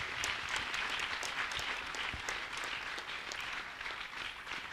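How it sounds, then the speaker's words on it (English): Steady, dense applause from a large audience welcoming the keynote speaker, Gaur Gopal Das, at a spiritual lecture series at Parmarth Niketan, sustained at an even level throughout with no talk over it. "Let's give him a very big round of applause."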